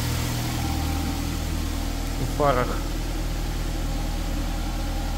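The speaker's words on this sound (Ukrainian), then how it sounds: "Двигун працює рівно, м'яко, тихо." A 2008 Nissan X-Trail engine idles smoothly and evenly, a steady low hum running throughout while someone speaks briefly over it.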